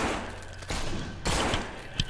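Gunshots ring out in the zombie video game No More Room in Hell, a few sharp bursts in quick succession, loud and close.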